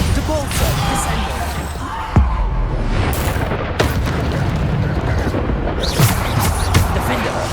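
Spell impacts from Bombarda blasts in Hogwarts Legacy combat, with booming bursts near 2.2 s, 3.8 s and late in the clip over a dense, loud game soundscape.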